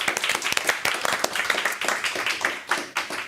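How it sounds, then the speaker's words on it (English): A lively burst of audience applause follows a debate, with close, distinct hand claps standing out against the broader clapping throughout. "so the applause now"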